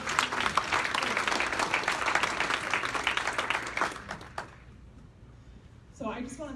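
An audience claps loudly and continuously at an awards event honoring young professionals, the applause thinning out after about four seconds before a voice begins speaking near the end.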